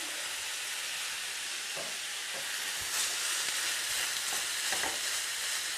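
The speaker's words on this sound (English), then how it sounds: "Just give that a stir through just to warm it through" Kedgeree stirred and warmed through in a pan, a steady close sizzle with occasional scraping strokes of the spoon, no talking over it.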